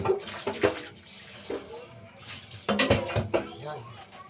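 Water from a newly fitted faucet splashes into a cooking pot in bursts, with clinks of metal cookware and a person talking over it.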